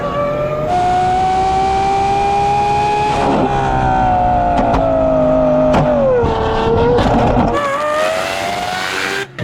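A 2600 horsepower Lamborghini Huracan launches and accelerates, its engine roaring loud and continuous with rising pitch sweeps through repeated shifts, plus brief sharp bursts that may be tire noise.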